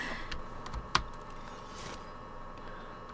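Keys tapped on a computer keyboard during keyboard-and-mouse gaming, a sparse run of quiet, close clicks with one sharper, louder keystroke near the start and no talking.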